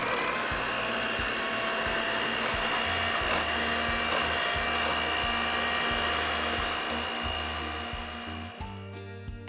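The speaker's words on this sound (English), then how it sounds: "blend everything together for approximately 5 minutes depending on your blender speed" An electric blender whirs continuously, a loud steady motor drone with faint rhythmic ticking as it mixes vanilla cupcake frosting, then cuts off abruptly near the end.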